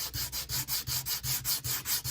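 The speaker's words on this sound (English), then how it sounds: "get a scrap piece of sandpaper, and just rub the top of that" Scrap sandpaper rubbed back and forth over the top of a Foamex stone wall diorama piece, about ten quick even strokes in steady rhythm, close and soft, with no voices.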